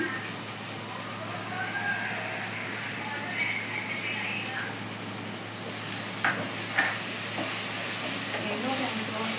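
Ginger garlic paste frying with tomatoes in a pan, giving a steady broadband sizzle and hiss throughout with a few brief stirring clinks near the end.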